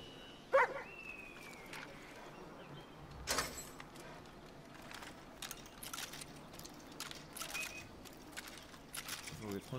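Dogs bark and yip intermittently in the video game Far Cry New Dawn, sharp bursts standing out over a busy background of game noise, with a voice talking at times.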